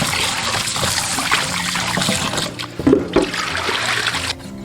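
Chicken legs are rinsed under a running kitchen tap, a steady close rush of water with trickles and light splashes as the meat is handled, continuing throughout with no talk.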